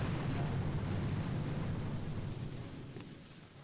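Heavy boom cannon explosions in the video game Boom Beach make a dense, rumbling roar that starts loud and slowly fades over a few seconds.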